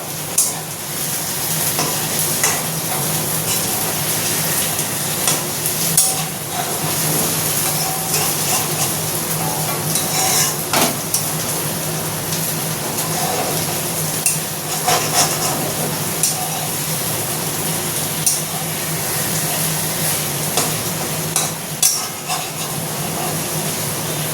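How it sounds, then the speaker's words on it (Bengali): Spice masala for kosha mangsho fries and is stirred in a pan, with a constant loud sizzle and regular scraping, knocking stirs repeating all the way through. "একটু মশলাটা ভালো মতো কষিয়ে নিতে হবে"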